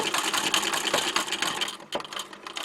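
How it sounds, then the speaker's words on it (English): A sewing machine fitted with an embroidery foot runs steadily while darning a hole, a dense rapid stitching whir that stays loud and continuous, with a brief dip near the end before picking back up. "the sewing machine continues the threading process"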